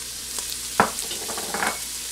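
Browned sausage sizzles gently with Italian seasoning in a Ninja Foodi while making Zuppa Toscana, a soft, even frying hiss with a couple of brief scraping stirs, close by and without talk.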